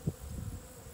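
Honeybees buzzing outdoors near hives that sit on a hill, a soft low drone holding steady through the moment, faint and without any voices.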